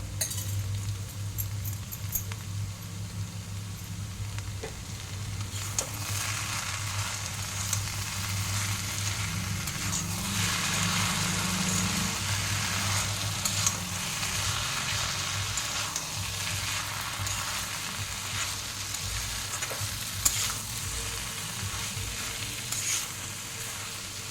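Mustard paste fries in a pan with a steady, soft sizzle and occasional stirring scrapes and light clinks, continuous and fairly quiet with no talking.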